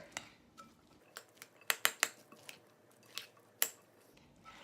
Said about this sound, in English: And then you go ahead and give this a good stir.